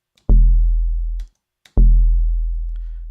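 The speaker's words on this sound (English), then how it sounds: "if I move this now to be more towards the nylon," Two plucked synthesized string notes from a Logic Sculpture physical modeling synth with the string material set toward nylon, each a sharp attack with a warm, steadily decaying low-pitched tone, played alone with a short gap between.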